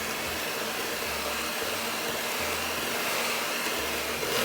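An electric mixer beats thick peppermint tart filling with a continuous, close, motorized whir that shifts slightly in load as it works, with no speech.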